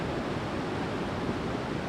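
Steady ocean surf washing onto an Australian shore on a morning outing, a continuous broad roar of waves at constant loudness with no voices.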